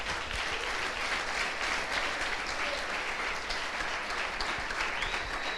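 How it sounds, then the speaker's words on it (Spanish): Steady applause from a church congregation fills the room for several seconds, a dense, continuous clapping with no voices over it. "Denle un aplauso al Señor."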